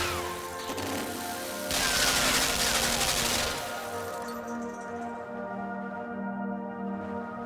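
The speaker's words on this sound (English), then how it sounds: "I've gotta make it shoot the gun." Rapid automatic gunfire in the video game Limbo: a loud, dense burst lasting a couple of seconds, standing out over a steady droning game ambience with a ringing tail.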